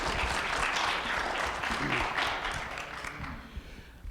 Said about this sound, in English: I want to give her the applause she deserves